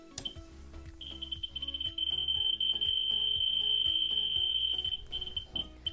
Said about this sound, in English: the first meter that we're actually going to use to measure this radioactive sample is just this Ludlum Model 44-9 pancake detector